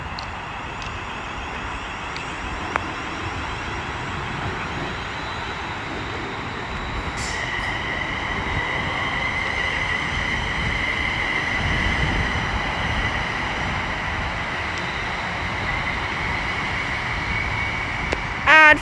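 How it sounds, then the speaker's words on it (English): A London Northwestern Railway Class 350 electric train pulls out of Milton Keynes Central station on the West Coast Main Line, a steady rolling rumble with rising electric motor whine that builds gradually over about nineteen seconds, with station ambience around it. "Now departing is the 1342 London Northwestern Railway service from Birmingham New Street to London Euston, being led by"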